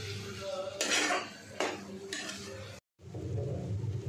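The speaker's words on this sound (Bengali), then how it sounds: "এবার ভালো করে মশলার ভিতরে কষে নিলাম।" Paneer is stirred into masala in a pan, the spoon scraping and clinking against the metal in a few bursts over the background hiss of cooking.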